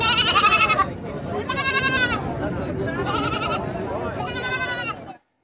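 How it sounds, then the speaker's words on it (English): A goat bleats four times in a row, loud and close, each call a wavering nasal cry about a second long with short pauses between. "G for goat."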